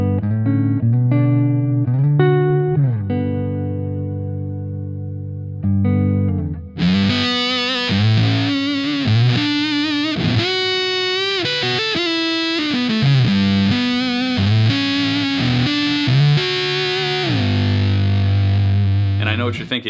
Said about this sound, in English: Fuzz pedals in general are hit or miss.